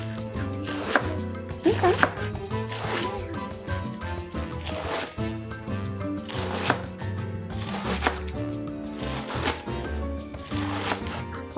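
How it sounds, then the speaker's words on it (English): Lettuce being cut into small pieces with a knife, heard as a run of crisp, rhythmic chops on a board at close range, with a voice speaking briefly over it. "We start by cutting up our lettuce. You're gonna go ahead and slice it up in very small cuts."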